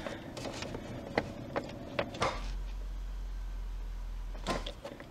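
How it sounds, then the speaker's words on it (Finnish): A few sharp clicks and knocks, then the electric fuel pump of a Citroën BX 16 GTi under restoration hums, a low steady whirr for about two seconds before fading under another knock. "Bensapumpu ääni kuuluu."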